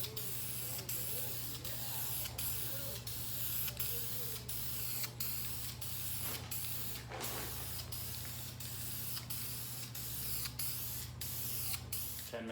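A Ram Promaster City hubcap gets a third light coat from an aerosol can, a steady close hiss running throughout with short regular clicks and pauses over a low mechanical hum.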